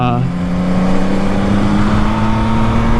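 A motorcycle engine runs loud and close with a steady, even drone and no clear rise or fall in pitch across the few seconds.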